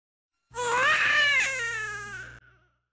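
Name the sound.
baby crying after birth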